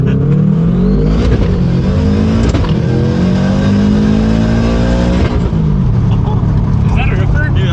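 A tuned Subaru STI accelerating hard, its engine revving loud and close with rising pitch sweeps through the gears, continuous over the whole stretch while people talk excitedly over it.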